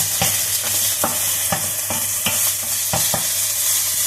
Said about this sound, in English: I'm going to saute my black bean here. Just give it a little stir and start making some noise.